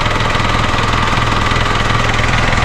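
Ford Ranger pickup engine idling on a farm vehicle, running smoothly with a steady mechanical drone and faint rhythmic knocking, close and continuous with no talk.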